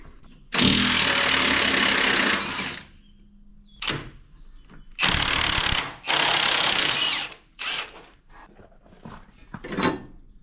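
Several bursts of loud, high-pitched power drilling into a 1980 Autocar truck's steel frame, each lasting a second or two, separated by short quiet gaps and clunks.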